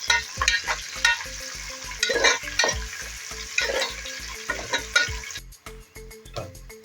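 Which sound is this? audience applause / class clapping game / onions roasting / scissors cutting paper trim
onions roasting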